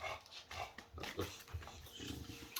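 A dog growls and grumbles in short, low rumbling bursts at close range, with a few sharper huffs between them and no talk over it.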